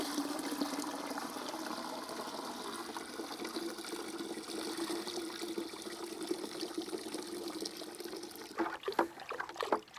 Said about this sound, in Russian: Доливаем воды до 10 литров.